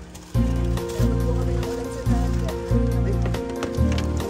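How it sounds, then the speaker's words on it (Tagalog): Rain falls steadily in a dense hiss, while a louder patter or drumming swells and repeats roughly every second, close by and with no one speaking. "nabutan po kami ng ulan"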